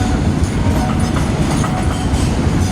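Crude oil express freight train 633 (Maenam to Bueng Phra) rolls past the Nikhom Makkasan level crossing, a loud, close, continuous rumble with wheel clatter filling the whole span.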